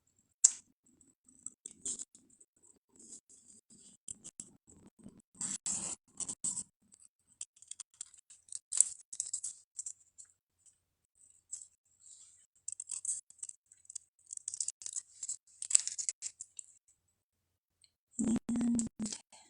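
Scissors fussy cutting paper scarf shapes for card making, giving repeated light snips and crisp clicks in short irregular bursts at close range, with brief pauses between cuts and no talking.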